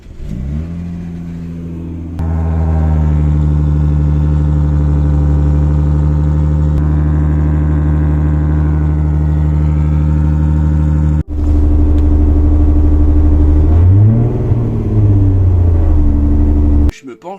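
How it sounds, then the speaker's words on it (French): A Mazda car engine with an exhaust leak at the muffler joint, giving a tinny, rattling drone at a steady idle that then swells into a brief rev before dropping off, loud and close. "j'ai une fuite à l'échappement. Du coup ça me fait un bruit dégueulasse de casserole"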